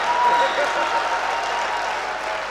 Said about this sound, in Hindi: पीछे वाले नौजवान ताली बजा रहे हैं